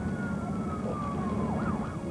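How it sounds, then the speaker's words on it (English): A wailing siren sweeps up and down over a steady low rumble at a hotel fire, continuous and fairly loud, like emergency vehicles passing nearby. "they awake to the sound of sirens and the smell of smoke"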